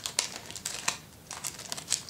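Toy packaging cut open to free a collector's guide and a pony figure, with plastic crinkling and crackling in short bursts plus small taps and snips, close and fairly quiet, no talking.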